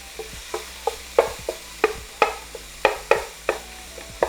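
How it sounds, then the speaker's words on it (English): Seasoned ground beef fries in a pan while a utensil stirs and scrapes it in regular strokes, about two a second, each a sharp scrape over a low sizzle, close and alone with no voices. "the fat is now rendering out of the ground beef"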